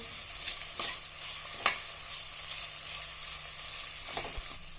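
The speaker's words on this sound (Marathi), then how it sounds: "क्रश करून घेतलेली आहे हिरवी मिरची आलं लसूण पेस्ट ती पण थोडीशी परतूया म्हणजे त्याचाही कच्चेपणा जाईल" Green chili, ginger and garlic paste sautéing in a pan as a dish of pavta rice is cooked, with a steady soft sizzle broken by a few sharp stirring scrapes and clicks of a spoon, close and alone.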